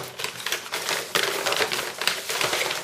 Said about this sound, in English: let's see what's in the envelope